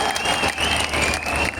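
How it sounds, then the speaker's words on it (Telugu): Audience applause at a steel plant foundation stone ceremony in Kadapa, a dense, steady clapping from a large crowd throughout. "గట్టిగా చప్పట్లు కొట్టి స్వాగతం పలకండి"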